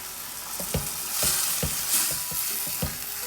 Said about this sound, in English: now I'm going to add some yogurt to this. I'm adding half a cup of yogurt